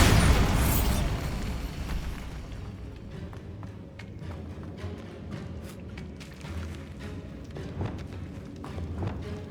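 The Bombarda blast spell in Hogwarts Legacy bursts at the start with a loud, bright explosion, then decays into rumbling debris, crackles and scattered pops of combat noise.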